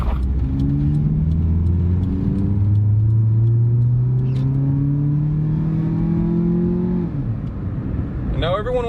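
A car engine with an aftermarket intake revs up at full throttle, a loud rising drone that climbs steadily for about seven seconds before dropping off, with a short burst of chatter near the end.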